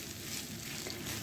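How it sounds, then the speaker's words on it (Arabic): Rice and onion sautéing in a pan, a steady soft sizzle with faint crackles, even and continuous throughout. "انا هسيبه كده يتشوح"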